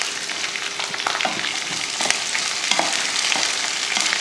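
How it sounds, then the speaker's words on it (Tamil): Sliced onion and green chillies sauté in hot oil in a kadai with mustard seeds, urad dal, chana dal and curry leaves, a loud steady sizzle broken by soft stirring scrapes. "வெங்காயத்தை பொன்னிறமாக வதக்கக்கூடாது, சும்மா லைட்டாக வதக்கிட்டால் போதும்"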